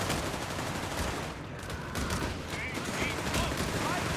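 Gunfire crackles in Company of Heroes 3 as American forces keep shooting, a dense continuous fusillade of distant rifle and machine-gun fire blending into a loud, unbroken battlefield roar.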